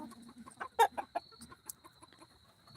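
Live on a small farm, a chicken makes a few soft, low clucks, spaced irregularly and fairly close, with a steady faint high tone in the background and no one talking.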